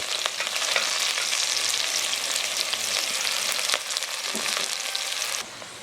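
Onions hit hot oil in a pot for a breadnut curry and sizzle loudly and steadily, with a few scraping stirs, before the sizzle drops sharply near the end.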